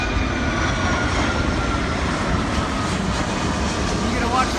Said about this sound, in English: You're gonna watch the airplanes land.